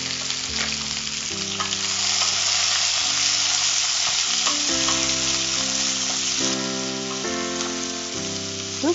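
Onions sautéing in a pan for a Kerala curry, a steady close sizzle and crackle of frying throughout, with soft stirring scrapes and musical tones playing alongside.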